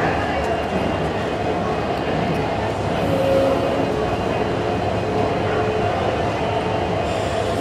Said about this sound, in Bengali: সম্ভবত প্ল্যাটফর্মে ট্রেন অপেক্ষা করছে।